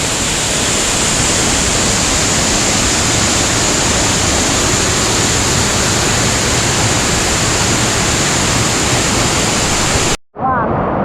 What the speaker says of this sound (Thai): น้ำตกมาพร้อมกับฝนตกครับ